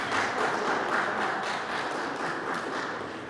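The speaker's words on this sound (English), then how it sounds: "Clap for that, too." Audience clapping for a youth poster contest winner at a Connecticut Family Day event, a steady wash of many hands sustained throughout at moderate loudness with no talk over it.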